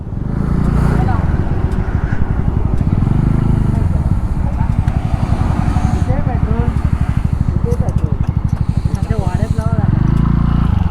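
Motorcycles from a group bike ride pull up at a stop, engines idling and puttering with a steady throb close by while people talk over them throughout.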